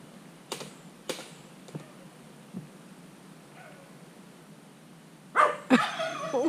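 Scattered bursts of animal calls from turkeys, roosters and dogs: a few short barks early on, then louder, busier calling near the end with roosters crowing amid the dogs.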